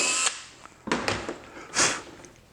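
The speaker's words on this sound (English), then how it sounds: "Use the same snappy pilot countersink bit to chase through the holes I drilled on the drill press." A power drill spins a snappy pilot countersink bit through pre-drilled holes in a wooden toolchest pullout, with several short whirring bursts separated by pauses, close and moderately loud.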